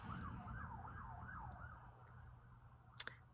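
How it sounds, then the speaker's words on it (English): Emergency vehicle siren wailing faintly outside, its pitch sweeping up and down repeatedly over a low rumbling background, then fading, with a brief click near the end. "Sorry for the sirens, guys."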